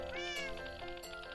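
A cat meows in a Minecraft game, with a few clear, loud, drawn-out tonal mews in close succession and no talk.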